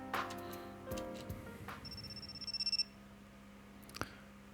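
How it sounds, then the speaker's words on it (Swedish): Telephone ringing in an interior scene of an anime episode, a bright electronic trill repeating in a quick pulsing burst before falling silent, over quiet background sounds. "Okej, det är någon telefon som ringer."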